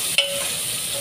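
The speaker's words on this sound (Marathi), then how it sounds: "थोडा कांदा परतून घ्यायचा व्यवस्थित" Chopped onion sautéing in a pan with a continuous soft sizzle and one quick stir or scrape near the start, close up and brief.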